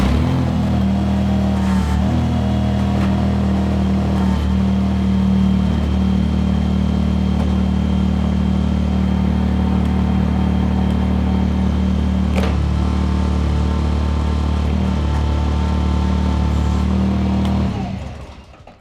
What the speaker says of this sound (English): I'm going to turn the tractor on.